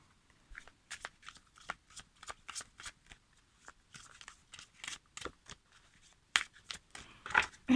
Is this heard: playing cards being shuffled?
yes